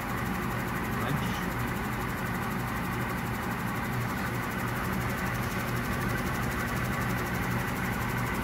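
A Blanchard No. 18-36 vertical-spindle rotary surface grinder running, a steady even machine hum and drone that holds constant throughout, with people talking over it.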